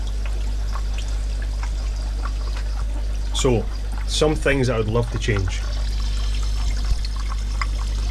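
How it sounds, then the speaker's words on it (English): Water pours and trickles steadily through a hang-on filter back into a fish fry breeding tank, a constant close splash beneath a low hum, while a person talks briefly in the middle. "the water comes in, goes through the filter, back into the tank, and then it's just a constant circulation"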